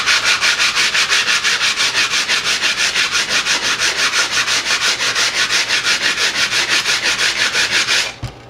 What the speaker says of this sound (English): I got a little bit more sanding to do on the front